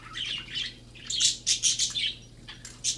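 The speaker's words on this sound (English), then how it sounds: "And Petrie's down there somewhere singing" A pet parakeet singing in quick bursts of bright chirps and twittering warbles, close and fairly loud, with short pauses between phrases.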